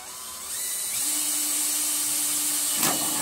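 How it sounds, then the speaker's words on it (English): A power drill boring through a metal rain gutter, a high whine that spins up and holds a steady pitch for a few seconds, ending in a brief gritty burst as the bit cuts through, close and loud. "when I'm drilling the holes, it doesn't, you know, the gutter doesn't bend and deform"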